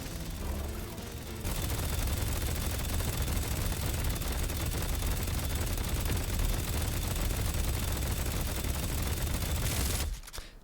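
Haze's fully upgraded gun in the video game Deadlock fires in a dense, unbroken rapid stream for several seconds, loud and continuous, then cuts off abruptly.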